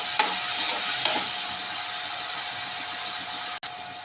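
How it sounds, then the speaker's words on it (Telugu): Ingredients fry in a pan while pasta for kids is being made, a steady loud sizzle with a couple of soft stirring scrapes near the start and a brief clunk toward the end, with no voices. "కొద్దిగా బాగా సాఫ్ట్గా అయ్యే వరకు ఫ్రై చేసుకోవాలి."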